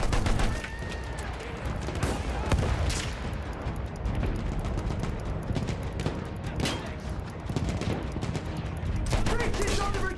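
Battlefield 1 gunfire from the Through Mud and Blood mission, rapid overlapping rifle and machine-gun shots rattling continuously for ten seconds, with a few heavier booms and some distant shouted voices mixed into the battle din.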